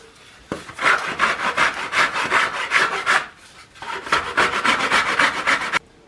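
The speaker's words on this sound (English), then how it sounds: "when we file the keel now, we just want to make the edges of the keel come to that center line like that" A file rasping along the edges of a wooden boat keel, steady rhythmic back-and-forth strokes close up, one run of strokes, a brief pause, then another run ending abruptly.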